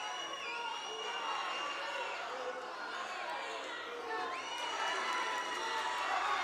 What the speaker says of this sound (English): The home section cheering on A.J.